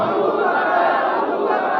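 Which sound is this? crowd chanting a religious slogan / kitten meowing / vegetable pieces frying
crowd chanting a religious slogan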